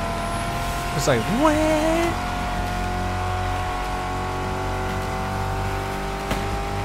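A muscle car with a supercharger in a video game, its engine revving up in a rising whine then settling into a steady drone, with a voice speaking over it.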